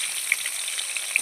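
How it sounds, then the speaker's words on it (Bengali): Pointed gourds frying in hot oil in a kadai, a steady soft sizzle with a few brief spitting pops. "কড়াইয়ে তেল গরম হয়ে গেছে, পটলগুলো ভেজে নিচ্ছি।"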